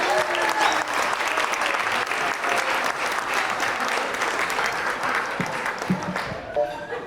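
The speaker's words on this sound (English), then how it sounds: "let's give a big round of applause to all of our toasters for tonight." Wedding guests at a reception give a loud, sustained round of applause for the toasters, dense clapping filling the room throughout with some crowd murmur.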